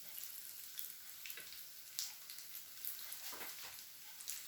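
Vegetable and tuna samosas fry in a pan with a faint, steady sizzle and scattered small crackles and pops, heard alone with no talking.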